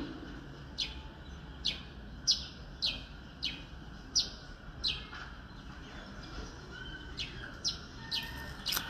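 Birds sing outdoors in a string of brief, sharp chirps spaced about a second apart, moderately near but soft, with a faint ambient hum beneath and no voices.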